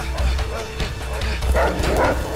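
Dogs bark repeatedly in a video game, several sharp yips and bow-wows at close range in quick succession over game noise, with a player's voice in the background.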